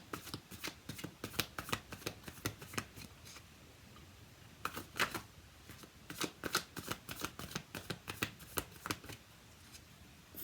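Tarot cards being shuffled to draw a clarification card, a steady run of crisp riffling flutters in quick bursts with brief pauses, close and fairly quiet, no voices.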